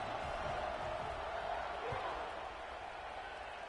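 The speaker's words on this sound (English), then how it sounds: "this crowd is buzzing after that last score" Steady crowd buzz filling a college football stadium during an FSU versus NC State game, right after a score, a dense continuous roar that holds level throughout with a few louder swells and no clear speech on top.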